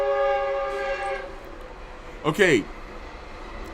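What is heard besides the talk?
train passing with horn near the tracks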